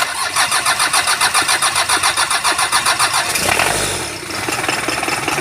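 A Hyundai Starex's overhauled 4DHY diesel engine cranks with a rapid rhythmic churning, catches and fires up, then settles into a steady, loud idle close by.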